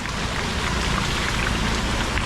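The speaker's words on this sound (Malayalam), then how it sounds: "മഴ നനഞ്ഞോണ്ടിൻ്റെ ഒരു സുഖം." Steady rain falls throughout, a dense, continuous patter on surfaces with no pauses or voices, fairly loud and close.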